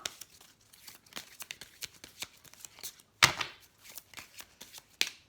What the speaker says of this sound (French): Je tire quelques cartes de ce qui m'inspire.